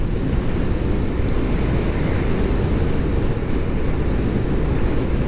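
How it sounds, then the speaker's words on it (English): Loud, steady roar of wind buffeting the microphone while a motorcycle rides straight into a west wind, a dense rushing wash that fills the whole clip with no voice heard. "I'm heading right into the west wind."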